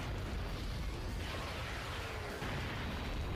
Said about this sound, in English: Decent explosion.